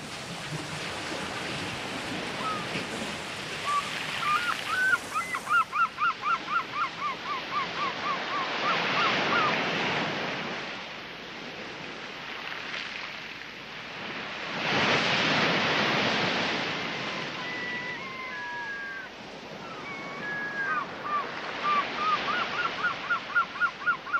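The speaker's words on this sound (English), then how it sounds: "The tide is rising, so you clamber back out" Waves wash onto a beach as the tide rises, broad surging swells that build and recede in slow cycles, with faint bird calls chirping over the surf and no one speaking.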